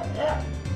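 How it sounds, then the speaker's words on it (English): A dog in the farming game Harvest Moon gives a quick, sharp yip, one short bark that sits close and fairly loud and ends inside a second. "I don't have the energy to fight off this dog."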